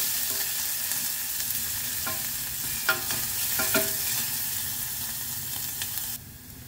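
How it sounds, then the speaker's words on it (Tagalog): Chopped onions sauté in a hot pan for chicken tinola, a steady close sizzle and crackle with occasional scrapes of a stirring utensil, no voices. "Gisa-gisa ng onions."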